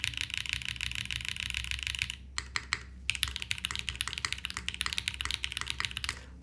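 Fast typing on a KBDFan KBD8X mechanical keyboard fitted with foam, a dense close-up patter of clacky keystrokes with a brief pause partway before the rapid clatter resumes.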